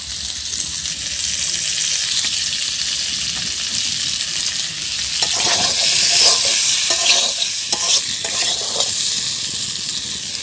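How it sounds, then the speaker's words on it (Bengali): Potatoes sizzling in hot oil in a pan on a village kitchen stove, a steady close hiss with intermittent stirring scrapes, no talking. "ডিম ভাজি তেলের ভিতরে দিলাম আলু"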